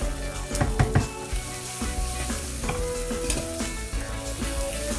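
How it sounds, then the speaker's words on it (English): Tomato and chopped coriander cook on high heat in a pan, a continuous close sizzle with bursts of spattering and a few clacks of stirring utensils, no voices. "Now cook the tomato for about a minute or so. This is on quite a high heat, it's still on a high heat."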